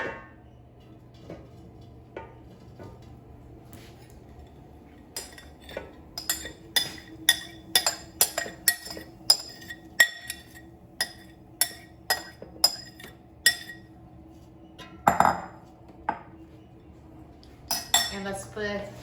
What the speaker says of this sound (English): I will return them back to the air fryer